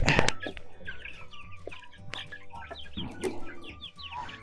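Several chickens, including Amrox, Livny and Minorca birds, cluck and chatter close by in a steady, overlapping flurry, with farmyard background noise throughout.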